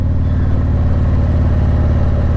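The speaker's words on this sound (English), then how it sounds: "And here comes a car, but no big deal." Steady engine drone of a 900 Kawasaki motorcycle on a highway as a car goes by, a continuous loud hum with no talking.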